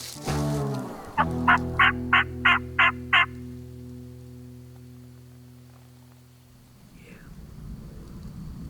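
A wild turkey gobbler gobbles in a quick rattling burst of about six notes, fairly close, near a field edge, with a low hum underneath and a brief whisper at the start.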